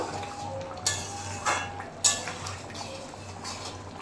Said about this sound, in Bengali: এবার ভালোভাবে একটু নেড়ে ছেড়ে দেবো।